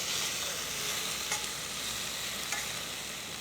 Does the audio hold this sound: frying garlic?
yes